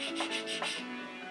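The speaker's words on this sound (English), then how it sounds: "Sanding, we're sanding." Wood is sanded by hand in a woodworking shop with steady back-and-forth rubbing strokes, a few quick passes close to the ear, with a faint tonal hum in the background.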